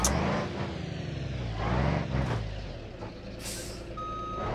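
A heavy truck reverses in BeamNG, its steady rhythmic backup beeps sounding over a low engine rumble with an air-brake hiss partway through.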